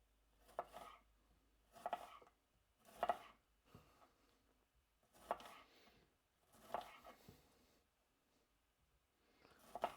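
Onions being sliced with a knife on a cutting board for tacos, six separate bursts of quick crisp cuts spaced about a second apart, close and clear in a quiet kitchen with no voices.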